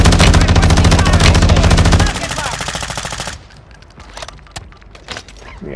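Gunfire in a shooter video game: a rapid, loud automatic burst rattles continuously for about two seconds, thins into trailing shots, then fades to quieter scattered single cracks and distant pops.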